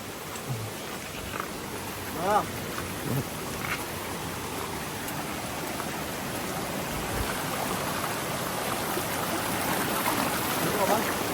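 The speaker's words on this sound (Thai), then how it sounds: "พวกเรานี่ตากฝนยิ่งแย่เลย" Steady rain falling in a forest makes a dense, even hiss of drops that continues throughout, with faint voices talking briefly in the background.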